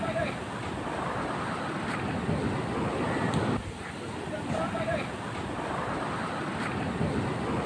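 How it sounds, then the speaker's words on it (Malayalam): Strong sea waves surge and crash against the coast during a coastal sea surge in Thiruvananthapuram and Alappuzha, producing a continuous broad roar with wind buffeting, fairly faint and distant, with a brief lull midway. "ശക്തമായ തിരമാലകൾ ആഞ്ഞടിച്ച് പലയിടത്തും വെള്ളം കയറി."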